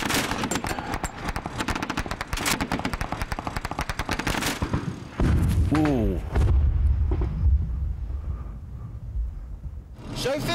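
A firefight against a Taliban position, with 2 Scots Mastiff vehicles brought in for fire support: dense, rapid bursts of machine-gun and rifle fire for about five seconds give way to heavy rumbling and scattered distant shots.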